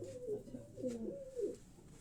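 Teddy cross pigeons coo softly nearby, several low rolling coos in a row over quiet background.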